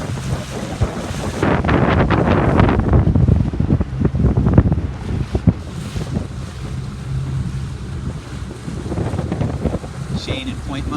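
Wind over open water at a 29er dinghy sailing regatta, heard as loud, buffeting gusts rumbling against the microphone, with waves and boat noise throughout and voices faintly underneath.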